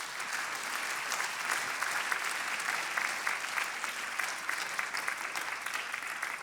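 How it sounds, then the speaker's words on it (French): Sustained applause from an audience at an awards ceremony, a dense, steady patter of many hands clapping at an even level throughout, with no voices. "Et on peut applaudir Juliette."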